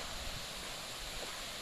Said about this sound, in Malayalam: അപ്പോൾ നമ്മൾ വെള്ളച്ചാട്ടത്തിന് അടുത്തെത്തിയിട്ടുണ്ട്